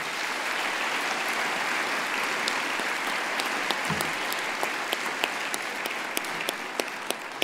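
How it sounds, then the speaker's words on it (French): Steady, dense applause from a large gala audience fills the room throughout, with a few sharper individual claps standing out near the end. "je voudrais qu'on les applaudisse"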